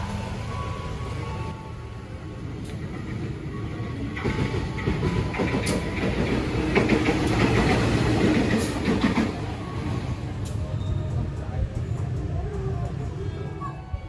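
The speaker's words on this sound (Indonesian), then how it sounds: "ini kereta aku datang" A crowded Indonesian commuter train rumbles into a station bound for Kampung Bandan, its rolling clatter and mechanical squeals building and staying loud and close, with voices faintly underneath.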